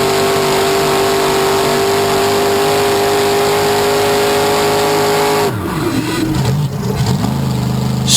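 An engine revs hard at a constant high pitch during an on-board donut at a Jennerstown all-star double-header event. Midway it drops and sweeps down as the wheels scrabble, loud and close, with no voices.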